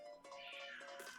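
A house cat meows at close range, a loud, drawn-out vocal call rising and falling over about a second, with nothing else heard.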